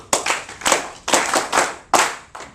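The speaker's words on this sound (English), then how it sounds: "give yourself a round of applause for being hot" Audience clapping at a speech in Chicago, heard as several short bursts of hand claps in uneven rhythm, fairly close and loud, with no talking over them.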